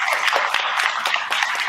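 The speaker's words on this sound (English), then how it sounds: "So give yourself a round of applause." Conference audience clapping together, a dense, lively patter of many hands sustained evenly throughout the brief moment.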